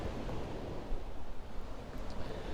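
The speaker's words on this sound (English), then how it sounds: "you can tell clearly I'm near the water" Gentle waves of Puget Sound wash against the shore in a soft, continuous hiss, faint and steady with a little wind rumble beneath.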